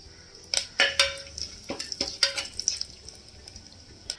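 Whole cumin, bay leaf, marathi moggu and cardamom frying in ghee for ghee rice, heard as a soft sizzle broken by irregular spoon scrapes and metallic clinks against the pan, close and moderately quiet.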